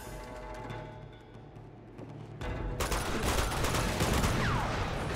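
Bursts of gunfire from the Uncharted 2 video game in a monastery firefight, rattling in dense overlapping volleys that swell louder and busier halfway through, with heavy sustained shooting to the end.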